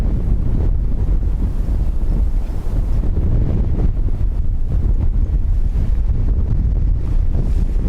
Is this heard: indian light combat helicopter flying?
no